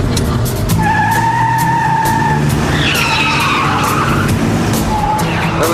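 A car driven fast with tires squealing and skidding, loud and close, long screeching tones over a continuous engine roar with no talk.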